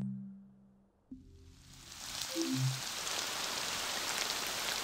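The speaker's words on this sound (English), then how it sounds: "It begins to rain." Rain begins in the Mount Hood virtual environment of the Apple Vision Pro: after a few low tones, a soft hiss of falling rain rises and settles into a steady, even patter.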